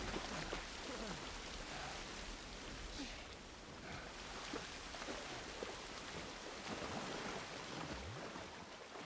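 Steady rain in The Last of Us Part 1 hisses as an even, moderately quiet wash of drops with scattered patters, continuous throughout and without speech.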